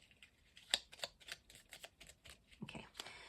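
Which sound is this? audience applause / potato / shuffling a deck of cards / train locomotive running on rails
shuffling a deck of cards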